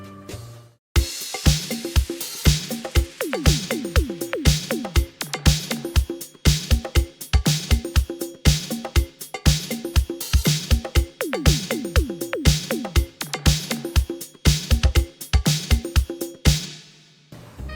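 A punchy city pop drum groove with kick, snare and descending tom fills plays steadily, loud and upfront, with no talking.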